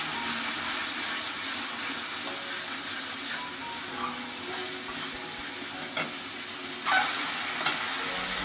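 Poppy seed and cashew spice paste stirred in a hot pan, a steady low sizzle with scraping strokes of a spoon throughout, a few sharper clinks near the end.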